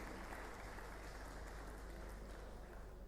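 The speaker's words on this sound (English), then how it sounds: "Wherever they are, you please clap if you want to clap." Audience applause at a women in chemistry gathering, a steady wash of clapping throughout, moderately quiet and even, with no clear talk on top.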